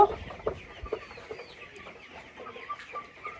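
Farmyard chickens and a rooster cluck softly in scattered, irregular bursts at close to moderate distance, with low rustling in between.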